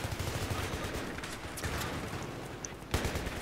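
Battlefield 3 gunfire as a dense, continuous fusillade of overlapping shots and bursts with a sharper crack near the end, loud and sustained throughout.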